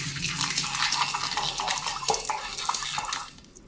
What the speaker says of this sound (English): it sounds like someone's cleaning like dishes or something